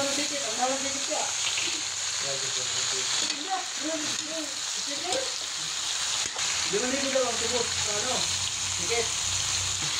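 Squash, long beans, eggplant and okra fry with pork, garlic and onion for adobong pakbet, a steady loud sizzle running under voices talking in the background.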